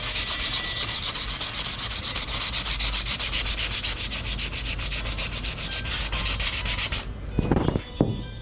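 Hand sanding with 500 grit sandpaper on a corner of a 1985 Monte Carlo car body makes rapid rhythmic rasping strokes, close and even for about seven seconds before stopping with a few handling knocks.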